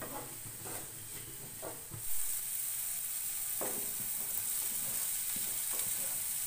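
Vegetables with grated carrot fry in a pan as salt goes in, a close, constant sizzle that swells louder after a few stirring scrapes and knocks of the spoon.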